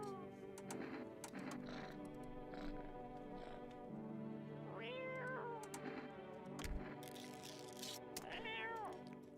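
A cat meows repeatedly, with rising and falling cries spread across the stretch, fairly clear over a steady background hum with other faint noises.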